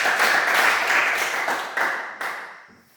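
A classroom claps for a student during a sociology lesson. The clapping is brief and fairly close, bursting at full strength, then tapering off with a couple of final claps over about three seconds.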